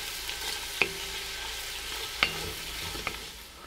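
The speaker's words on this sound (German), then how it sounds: "Jetzt geben wir die Zwiebeln dazu. Und auch die braten wir erstmal schön mit an." Chopped onions fry with rendering bacon fat in a Dutch oven, a soft low sizzle beneath a few sharp clinks of a spoon stirring against the pot, fairly quiet and without voices.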